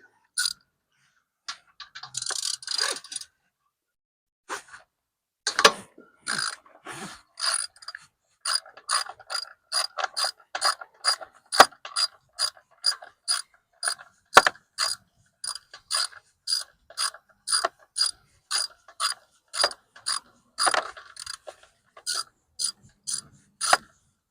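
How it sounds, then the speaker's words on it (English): A hand ratchet fitted with a 7/16 socket loosens the two breather bolts on a Harley-Davidson Milwaukee-Eight during a Screaming Eagle Ventilator air cleaner install, giving long runs of rapid, even, close-up clicks, with a few brief pauses and no talk. "So the 2 breather bolts, you're going to need a 7/16 socket."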